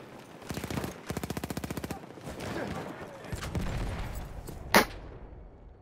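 Gunfire from a field gun in the Battlefield 1 video game: rapid rhythmic bursts of close, loud shots, then rumbling battle noise and one sharp, bright blast near the end.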